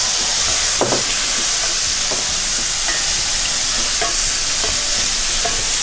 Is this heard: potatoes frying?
yes